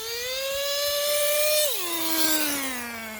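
A nitro RC truck fitted with a 3D printed bevel gear and running out of tune gives a high, buzzing two-stroke whine that holds its pitch, then drops sharply and keeps sliding lower as it moves off.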